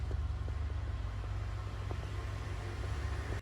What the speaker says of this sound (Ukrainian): На фоні їздять великі вантажні машини